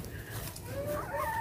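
Chickens cluck in a hot backyard coop, a close, steady stream of hen calls with a few higher rising notes and no talking.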